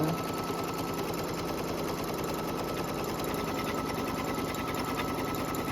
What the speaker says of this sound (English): What is it doing? It's supposed to be stitching.